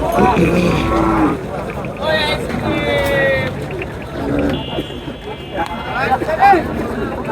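Sahiwal cattle low and moo repeatedly at a crowded village livestock market in Naogaon, with several drawn-out calls near and farther off over constant crowd chatter and someone talking.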